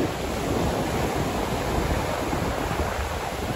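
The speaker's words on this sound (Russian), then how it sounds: "Я обожаю вот эту историю, когда волна бьет волнорез и разбивается." Stormy sea surf pounding against a breakwater on the Sochi coast, a continuous loud roaring wash of crashing waves with heavy wind noise buffeting close by, no talk.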